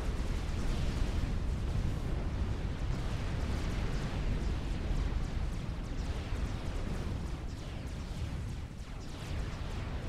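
Artillery fire and explosions in the real-time strategy game Supreme Commander, a dense continuous rumble of booms and blasts rolling on for ten seconds at steady loudness, with no clear gaps.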